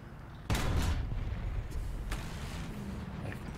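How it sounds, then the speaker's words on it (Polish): A single heavy tank cannon blast in War Thunder booms out, followed by a rumbling decay and a softer distant boom later, over steady background noise. "Całkiem przyjemny strzał w sztuga."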